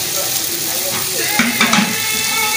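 Eggs hit a hot pan and fry with a steady close sizzle, a few brief scrapes and clinks of a utensil around the middle, with no talking.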